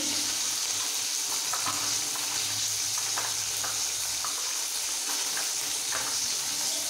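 Fish fries in a pan in a home kitchen, giving a steady, dense sizzle with occasional crackles and spatters. It sounds close and continuous, with no talk.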